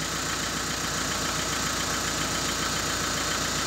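A Volvo car engine runs steadily after being restarted in snow with a weak battery, a continuous even rumble and hum with a faint rhythmic knock, heard close with no talking.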